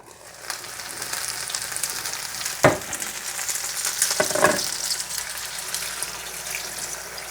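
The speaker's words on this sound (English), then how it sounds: "Now we're gonna add some water." Sizzling curry chicken feet in a pot get water poured in, producing a steady frying hiss, a couple of sharp splashy bursts as the liquid hits, then continued bubbling sizzle, close and without speech.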